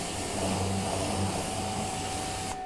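A pressure washer rinses a Corsair wheel with a steady, loud, close hiss of spray and a faint tonal hum underneath, cutting off abruptly just before the end.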